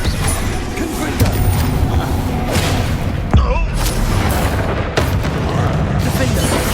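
Confringo fire spell explosion in the Hogwarts Legacy video game, heard as booming blasts amid dense, continuous combat noise, with a sharp burst standing out partway through.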